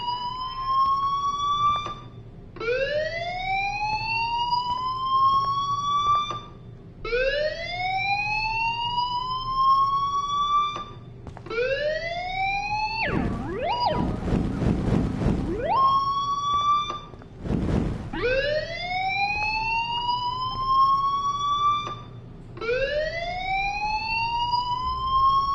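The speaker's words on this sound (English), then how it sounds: "do you hear that fire alarm?" Repeated rising electronic siren-like fire alarm wail in the video game Life is Strange, sweeping upward again and again in steady cycles, loud and close, with brief noisy bursts between some cycles.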